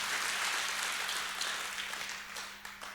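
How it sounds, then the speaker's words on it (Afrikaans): An audience at a live Sunday church music performance applauds the band with loud, dense clapping that starts full and slowly thins and fades toward the end, a faint steady hum underneath. "asseblief hierdie team hande klap, hulle werk hard."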